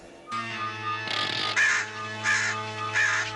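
A robot bird in a He-Man cartoon caws three times in a steady rhythm, harsh crow-like calls heard close and loud over a sustained electronic background tone, with no talk.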